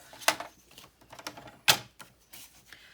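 Card paper being cut, two sharp crisp snips or slices standing out clearly, with quieter scraping and handling noises between them, close and dry.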